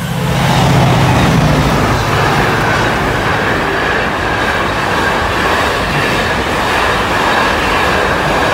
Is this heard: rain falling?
no